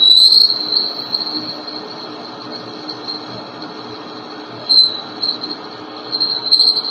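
A lathe trues the surface of a carbon fiber rifle barrel, giving a sustained high-pitched whine from the cutting tool, steady and close, with brief louder squeals partway through and near the end.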